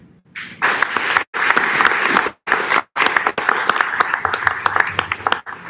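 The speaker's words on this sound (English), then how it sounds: "Can we give a round of applause again to Jackson and Carlos?" Applause from an audience at a 5th grade graduation arrives in loud, dense bursts broken by brief silent cuts, with a few scattered shouts and cheers mixed in.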